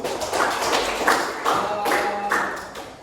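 A small audience at a school counselling session applauds, with a run of close, moderately loud hand claps coming in uneven waves.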